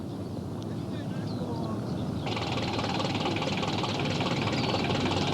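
Wartime tractor towing a train of live, fused bombs from the dumps out to an Avro Lancaster bomber: a steady, low engine drone that thickens partway through, running continuously with a voice over it.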